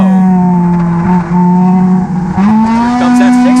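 Race cars roar past during a NASCAR Division III enduro, a loud sustained engine drone with shifting pitch and a brief dip as the pack bumps through the turn, with a commentator talking over it.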